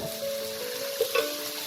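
Spiced masala with raw jackfruit, a splash of water and chana dal is sautéed in a pan: a short, soft sizzle with a low steady hum and a couple of quick scraping clicks.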